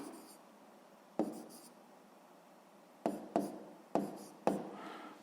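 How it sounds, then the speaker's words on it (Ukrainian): Pen scratching on paper, quiet and close, in a few short strokes, with brief sounds near the start and a cluster of quicker marks toward the end. "Записуємо Кравчук"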